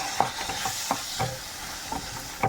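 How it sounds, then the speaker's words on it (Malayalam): Chopped onions sizzle with garam masala in a pan while a spatula stirs and scrapes, giving a steady frying hiss punctuated by several distinct clinks and scrapes close by. "മൂത്ത് വരുമ്പോൾ 2 സബോള ചെറുതായി അരിഞ്ഞിടുക"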